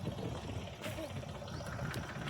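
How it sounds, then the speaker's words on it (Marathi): A tractor engine idles with a steady low rumble and knock on a field being levelled, moderately close, while people talk over it. "लागला ट्रॅक्टर उचलायला"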